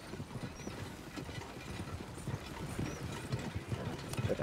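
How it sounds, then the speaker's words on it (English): Horse hooves clop along at a steady walking pace with a soft mechanical rattle underneath, all heard at a moderate distance, in the game Red Dead Redemption 2. "Come on, horses. You can do it."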